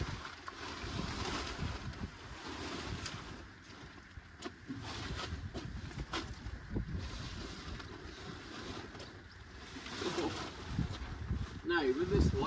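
Gusty wind buffets the microphone while a loose tarpaulin over a rusty VW Karmann Ghia flaps and rustles in bursts, with a person talking intermittently over it.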